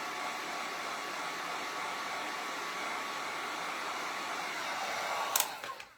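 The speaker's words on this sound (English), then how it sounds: "You can use a hair dryer." A hair dryer blows steadily close by as it dries a watercolor valentine card, a constant airy roar that holds for several seconds and then cuts off abruptly with a click near the end.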